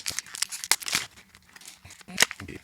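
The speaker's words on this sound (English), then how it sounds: "I'm going to butcher the unwrapping of this." Crisp paper wrapping torn and crinkled off a boxed designer fragrance made in France, close up, with a run of sharp rips and rustles in irregular bursts, two loud tears standing out, and quiet breathy sounds between them.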